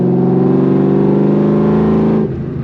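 A 2003 Ford SVT Cobra's supercharged V8 drones loud and close at a steady, rich harmonic hum, then drops off abruptly near the end as the revs fall.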